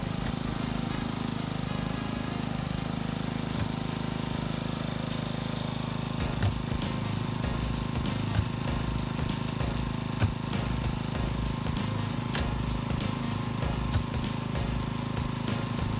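At a building foundation construction site, a pump sucks up soil with a continuous low mechanical drone, steady and fairly loud, with faint clanks from the site mixed in.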